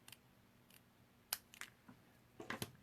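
Scissors snip through paper along a line, a few quiet, sharp cuts spaced irregularly in a hushed room, with a cluster of quick snips near the end.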